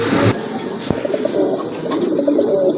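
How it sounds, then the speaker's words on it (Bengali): Pigeons coo nearby in soft, throaty bursts, with a sharp knock early on and a faint background hum; a pair of Rajgolla pigeons at a bird market. "এখানে কিন্তু এক জোড়া কবুতর আছে"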